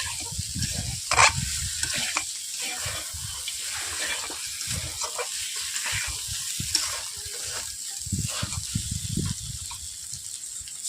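Cauliflower and potatoes being stir-fried in a karahi, with a steady broad sizzle and repeated scraping stirs from near, and no talking.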